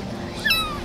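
A brief, thin meow from a kitten rescued during emergency treatment for maggots, a single short cry heard close by over a quiet background.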